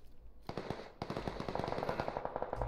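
Rapid automatic gunfire in PUBG Battlegrounds, a dense rattling burst of close shots followed by steady repeated fire, heard alone without speech.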